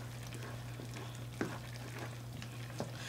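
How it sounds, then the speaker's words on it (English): A skillet of spaghetti seasoned with chili powder and a half teaspoon of sugar is stirred, giving a few soft scraping strokes over a steady low kitchen hum. "Now let's give that a stir."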